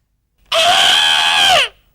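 A human voice imitates a trumpeting elephant with one loud, shrill, sustained cry lasting about a second that drops away at the end, alone against silence.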